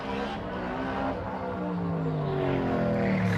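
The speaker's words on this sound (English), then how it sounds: "You hear it right there, just kind of squalling as it goes through the corner." A NASCAR stock car corners during qualifying at the LA Coliseum, its engine drone sweeping upward in pitch with a faint tire squeal through the turn, steady and fairly close, without talk.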